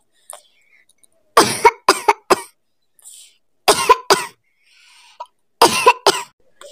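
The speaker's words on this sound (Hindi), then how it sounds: "कुकू की खांसी और भी बढ़ गई है" Several sharp bursts of cartoon character coughing come in clusters of two or three, with short pauses between them, close and fairly loud.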